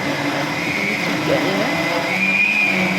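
A kitchen mixer grinder whirs steadily as it grinds sugar, a continuous loud motor drone with a slight rise in intensity midway, while someone talks over it.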